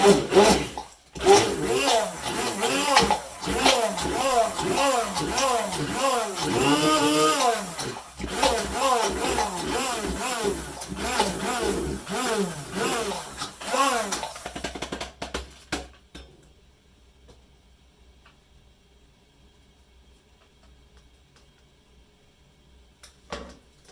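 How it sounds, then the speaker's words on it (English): A stick whisks borax solution and coconut oil in a container, a fast rhythmic scraping and sloshing, loud and close, for about fifteen seconds before stopping and leaving near silence. "So we're going to whisk this with the stick."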